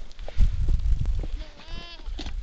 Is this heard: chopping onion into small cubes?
no